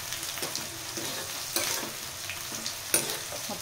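Onions and green chillies fry in oil in a pan as a spatula stirs them, producing a steady close sizzle punctuated by a few scraping strokes.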